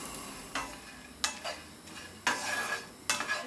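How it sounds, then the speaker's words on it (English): Nuts toasting in a pan are stirred in four separate scraping strokes, each a short rustling scrape of a utensil against the pan, alone with a quiet gap between them. "You want to make sure you stir your nuts constantly"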